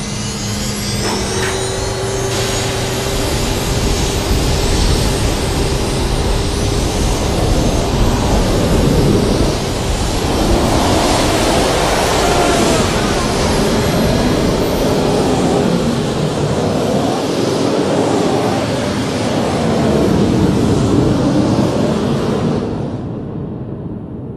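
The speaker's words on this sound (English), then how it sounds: "replaced it with jet engines from MiG-21 fighter planes. Water is injected into the jet stream." A loud, continuous roar of MiG-21 jet engines, with water injected into the jet stream, blowing out a Kuwaiti oil well fire in 1991; broad hissing and rushing noise holds steady, then trails off abruptly.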